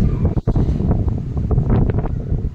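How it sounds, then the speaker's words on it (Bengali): Sea breeze at a beach in Mandarmani, strong gusting wind buffeting the microphone in a loud continuous roar, with faint rustling in the background. "সুন্দর হাওয়া"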